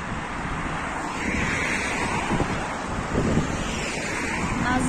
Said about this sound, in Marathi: बाजूला समुद्र आहे